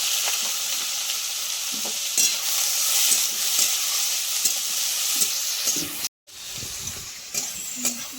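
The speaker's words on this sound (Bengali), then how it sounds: "পেঁয়াজটা একটু ভাজা ভাজা হবে।" Chopped onion, green chili and ginger sizzle in hot oil in a pan, a steady close frying hiss broken by scraping stirs and a brief pause.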